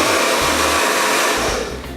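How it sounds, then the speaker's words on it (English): A hair dryer running on its cold setting blows steadily at close range to speed the drying of Araldite glue on a mount, a loud broadband rush of air that stays even and fades slightly at the end. "I'm gonna use my hairdryer to quicken up the process. I'm gonna use it in the cold mode"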